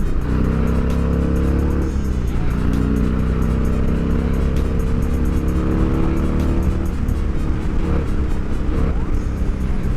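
A loud motorcycle exhaust through a Danmoto two-into-one system roars steadily, with the engine revving up and down in a continuous, close, raspy drone.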